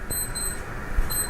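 A wristwatch alarm beeps in short, high-pitched electronic tones, faint against a quiet indoor background, with a soft thump near the end.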